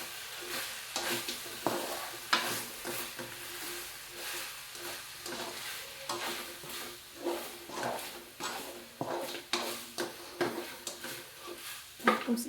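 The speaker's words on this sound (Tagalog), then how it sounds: "Igisa lang natin ng maayos" Aromatics for pork estopado sauté in a pan, where a soft sizzle runs under rhythmic scraping and stirring strokes, close and steady, without speech.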